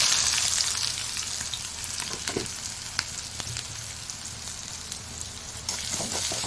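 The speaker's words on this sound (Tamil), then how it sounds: "கொஞ்சமாக கடுகு உளுந்து ஆட் பண்ணிப்பாங்க அடுத்தது நம்ம கட் பண்ணி வச்சுருக்க பெருங்காய வெங்காயம் ஆட் பண்ணிப்பாங்க" Mustard seeds, urad dal and onion frying in a pan, a steady moderate sizzle with scattered small pops and crackles throughout, no voices.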